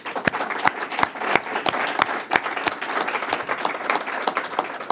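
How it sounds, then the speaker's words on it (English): An audience applauds the speakers at the close of a panel on natural resource trends in Asia, a loud, dense round of clapping with distinct sharp claps poking through, sustained for several seconds. "join me in one last round of applause for all our speakers"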